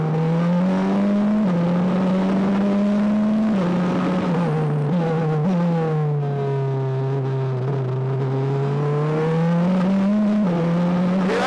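From onboard a Formula Regional F3 single-seater on a race track, the engine screams loud and close, revs climbing and dropping through quick gear changes as the car accelerates out of corners.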